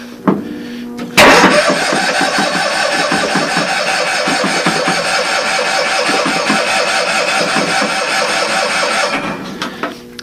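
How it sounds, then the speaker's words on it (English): An old Cushman engine cranks at length on a cold start, the starter churning in a loud, rapid, even rhythm for several seconds without catching, then stopping abruptly. "So kick in the clutch, make sure the gas is loose, and hit the key."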